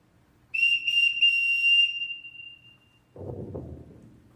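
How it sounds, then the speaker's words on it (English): A sharp whistle blown as a household call signal sounds loud and close in a few rapid bursts, then one sustained blast that fades, followed by brief low footsteps or bustling. "Everyone in this house answers to a whistle."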